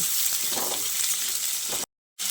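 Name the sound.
potatoes frying in a pan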